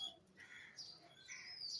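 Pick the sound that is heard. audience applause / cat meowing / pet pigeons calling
pet pigeons calling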